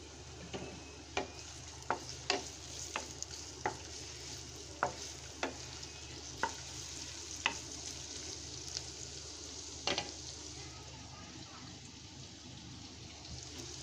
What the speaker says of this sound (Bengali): তেলের মধ্যে পেঁয়াজ দিয়ে দিলাম,